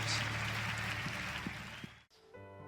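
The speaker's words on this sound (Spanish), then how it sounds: "un fuerte, fuerte aplauso" Congregation applauding at an evangelical church service, a dense steady wash of clapping that fills the first two seconds and then cuts off abruptly.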